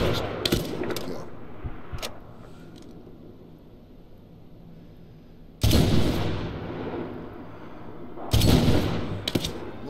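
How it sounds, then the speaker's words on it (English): Mortar shells striking in a Medal of Honor battle, two loud broadband blasts a few seconds apart following quieter scattered gunfire and mechanical clatter, with a rumbling tail after each impact. "Mortar inbound."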